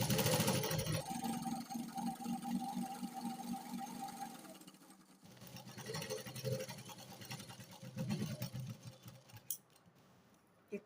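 A domestic sewing machine runs in bursts as it press-stitches fabric. The close mechanical whirr stops midway, then starts again with clicks and handling sounds, and no one speaks.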